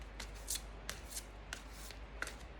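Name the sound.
shuffling a deck of cards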